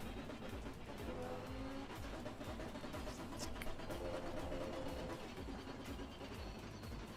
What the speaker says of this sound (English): That is not a happy sounding car.